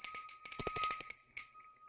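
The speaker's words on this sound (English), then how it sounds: "Bell has been rung" A small bell rings in a workshop, bright sustained metallic tones with a quick run of jingling strikes, then fading away.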